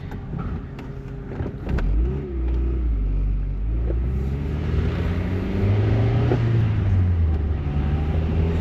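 A 1989 Honda Prelude's engine runs close by, a low steady rumble with a brief rev early on, then settling into an even idle that holds at a constant level.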